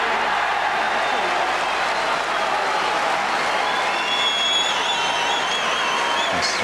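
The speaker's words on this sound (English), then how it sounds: "Listen to the roar." A snooker crowd at the 1998 Masters final roars and applauds, with loud, sustained clapping and cheering filling the hall throughout and a few whistles rising near the end.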